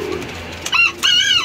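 Two short pigeon coos close by, one right after the other, over faint background noise.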